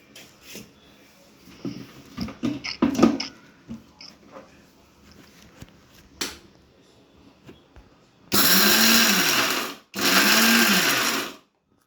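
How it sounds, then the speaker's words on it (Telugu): A mixer grinder blending curry leaf powder whirs in two loud bursts of a few seconds each, preceded by scattered knocks and handling sounds of the jar and lid. "ఇలా చల్లారిన తర్వాత మిక్సీ పట్టుకోవాలి"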